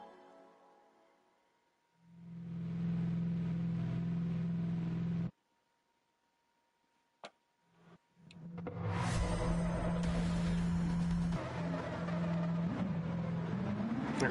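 A Nissan race car in Gran Turismo 7 racing with a pack of identical cars, its engine droning steadily at mid pitch, cutting out abruptly, then surging back louder and revving hard with other engines blending in.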